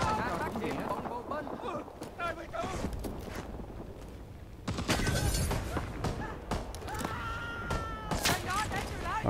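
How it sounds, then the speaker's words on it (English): Molotov cocktails burst and burn during a Rising Storm 2 Vietnam War firefight, with loud broadband whooshes and crackles around the middle of the clip over other battle noise, while someone talks throughout. "Are those Molotovs I'm hearing?"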